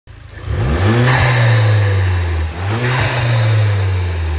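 An Audi TT with a cold air intake revs hard, two loud rising engine pulls with a brief dip between them, close and with no talk.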